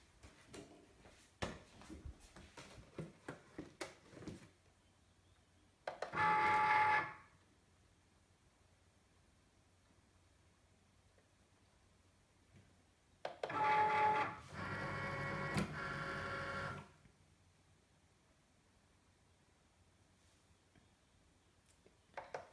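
A cutting machine fitted with a newly changed blade works in bursts: two stretches of whirring motor and carriage movement separated by quiet, with scattered ticks and clicks at the start.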